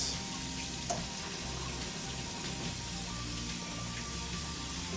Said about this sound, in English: Nice rinse till the water runs clear.